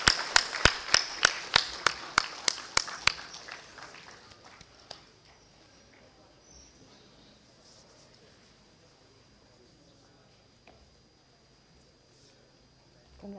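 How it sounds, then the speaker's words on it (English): An audience at the CHEMCON-2024 international chemistry conference claps for an honoree in a steady, even rhythm for about three seconds. The clapping then thins out and fades, leaving a quiet room. "Please give him a huge round of applause,"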